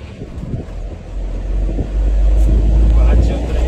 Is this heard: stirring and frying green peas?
no